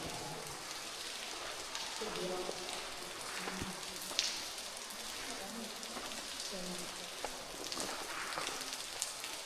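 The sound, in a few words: water dripping in a cave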